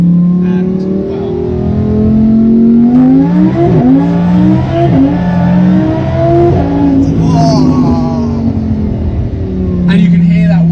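A Lamborghini engine gives off a steady rising and falling whine while driving, heard from inside the cabin with the engine droning underneath as people talk over it.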